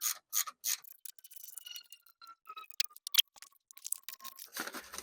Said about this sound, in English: Loosen this one. They're both 12 millimeter bolts.